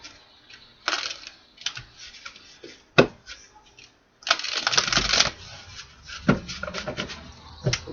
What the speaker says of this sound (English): These are hard to shuffle because these are huge. And it's a thick deck.